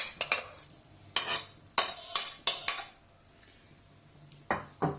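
A metal spoon stirs masala into vegetable pulao rice in a cooking pot, giving a run of sharp scraping clinks against the pot in irregular bursts, close and clear, with a faint sizzle underneath and no talking.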